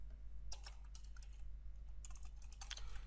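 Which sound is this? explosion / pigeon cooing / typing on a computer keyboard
typing on a computer keyboard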